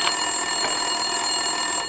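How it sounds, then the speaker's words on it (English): In Max Payne 2, a desk telephone rings in a police office. It is a continuous electronic ring, steady and fairly loud, with no one speaking. "Winterson's phone was ringing."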